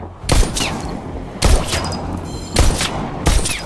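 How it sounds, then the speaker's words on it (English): Gunshots from the VR game Bullet Train in Unreal Engine 4 fire at targets in four loud, evenly spaced bursts, each one a sharp crack with a short ringing tail. "Now try to shoot the targets as they appear."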